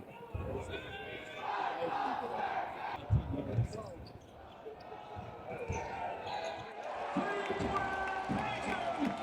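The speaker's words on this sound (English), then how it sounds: "Okay, the SpongeBob chant worked." Crowd at an Iowa versus Northwestern basketball game chanting in unison, a loud, dense rhythmic roar with voices and arena noise throughout, swelling again near the end.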